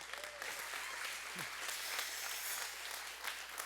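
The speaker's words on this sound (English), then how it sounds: "Give a big round of excitement and applause to Dr. Frank Turek" A church congregation at Freedom House Church applauds and cheers to welcome a guest speaker, a broad wash of clapping that holds fairly even throughout, with scattered shouts and whoops mixed in.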